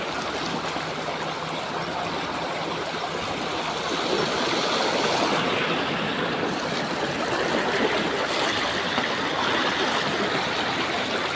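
Fast-moving floodwater rushes and churns steadily, a dense, loud roar of strong current that swells slightly partway through.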